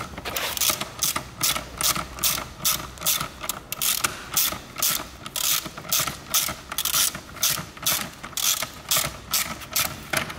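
A ratchet tightening a seat belt mount bolt in a VW Golf 3, rapid close clicking in steady back-and-forth bursts, each stroke a run of sharp pawl ticks, repeated throughout with no talking.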